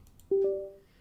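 The Windows 11 USB device connect sound: a soft two-note electronic chime, a low tone then a slightly higher one overlapping, ringing out smoothly and fading in a quiet room.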